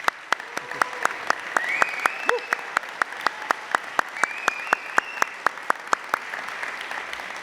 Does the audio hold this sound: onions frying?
no